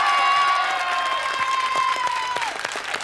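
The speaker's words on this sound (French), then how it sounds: "Je voudrais qu'on l'applaudisse encore." A television studio audience applauds and cheers, a broad crowd clapping under a sustained musical tone that slides down and fades, with the clapping thinning toward the end.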